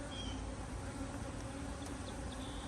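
Honey bees swarm around an opened hive after honey extraction, a dense, continuous buzzing drone with occasional individual bees zipping close past the microphone.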